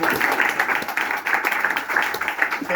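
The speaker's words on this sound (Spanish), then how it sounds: "Virginia Canedo, un aplauso grande" Audience applause at a Spanish poetry reading and book launch, a steady dense patter of many hands clapping close by, holding level throughout with no pauses.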